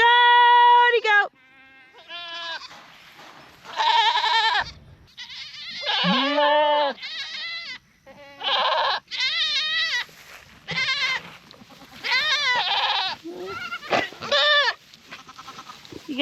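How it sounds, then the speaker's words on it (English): Goats from a dairy herd bleat repeatedly across a pond-side pasture in loud, wavering calls with short gaps between them, while a person speaks and calls out to the animals between the bleats. "Goaty goat!"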